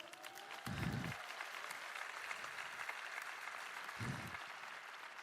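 Sustained applause from a sizable audience, steady and fairly loud throughout, with a few louder swells of clapping and cheering.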